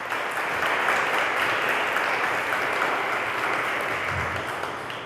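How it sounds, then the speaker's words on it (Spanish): Applause from the audience at a book presentation, a dense, continuous roar of clapping from a full room that holds steady for about five seconds and eases slightly at the end. "Por favor, un aplauso."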